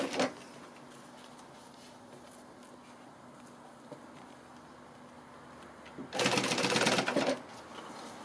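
Sewing machine stitching piping onto fabric around a shaped corner, one short loud burst of rapid whirring stitching near the end, with a brief tap at the start and quiet room sound between.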